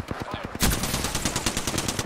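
Rapid gunfire crackles in Apex Legends, a string of evenly spaced automatic shots that jumps louder after half a second into a dense, sustained burst, close and sharp.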